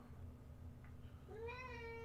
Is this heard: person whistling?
no